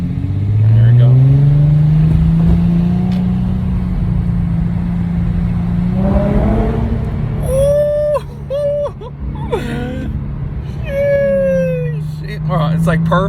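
A car with a new aftermarket exhaust accelerating, a steady, moderately loud engine drone climbing in pitch and swelling as it passes through a tunnel, with excited talk from people inside over it.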